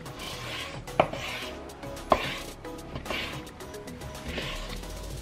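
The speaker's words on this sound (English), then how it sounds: "Cut beef into dices." A knife dicing beef for nikujaga on a cutting board: a few sharp chops roughly a second apart over faint kitchen rustle.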